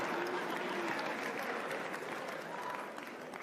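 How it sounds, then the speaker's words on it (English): Sustained applause from a large crowd at a presidential address, a thick steady roar of clapping that eases off slightly toward the end. "What you guys are applauding for?"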